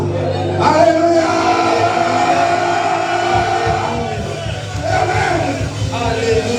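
Church congregation at a French-language evangelistic seminar shouting acclamation during a sermon, a loud sustained crowd roar of cheers and cries that swells, dips briefly, then rises again.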